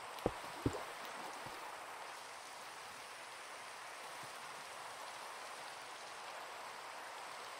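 Steady rain hisses softly in a Minecraft world, a faint even wash throughout, with a couple of sharp clicks near the start.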